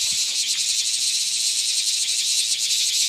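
Cicadas in Japan make a loud, continuous, shrill drone that stays steady throughout, with no voices.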